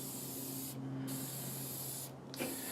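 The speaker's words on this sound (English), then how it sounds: "Put the sealer coat on it." A sealer coat is sprayed onto a bass guitar body, heard as a loud, close, continuous aerosol hiss broken by two short pauses.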